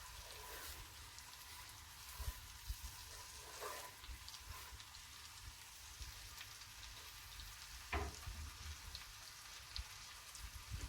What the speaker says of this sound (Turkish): Şimdi soğanımın kavrulmasını bekleyeceğim.